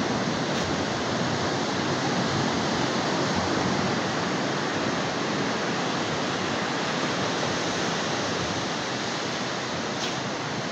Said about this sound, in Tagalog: Malalaki ang alon sa tabi, pero pagdating sa laot naman kalma.